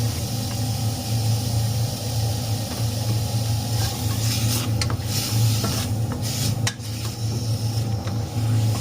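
Steady loud sizzling as pork is added to a hot pot with scraping and clinking as it is stirred, a continuous frying hiss throughout.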